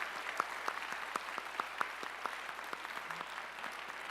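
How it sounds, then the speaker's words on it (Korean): A church congregation at a Korean Sunday worship service claps to welcome standing guests: a sparse, fairly steady run of separate hand claps that fills the hall at moderate volume, with no talking. "그래 우리 환영의 박수 함께 하겠습니다"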